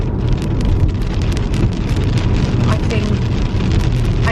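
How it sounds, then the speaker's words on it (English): Rain falls outdoors in a dense, steady patter with crisp drops hitting nearby surfaces, loud and close, with some wind rumble underneath. "Well, it started raining again."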